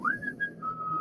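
A driver whistles a short melodic phrase from Beethoven's Fifth, clear and close, with a rising first note then held tones.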